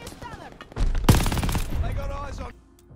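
Weapon fire in the first-person shooter Call of Duty: Vanguard, a loud close burst of rapid gunshots lasting under two seconds, with a voice talking under and around it.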